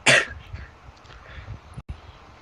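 A single sharp cough bursts out up close, followed by low muffled shuffling and faint breathy sounds before a brief cut.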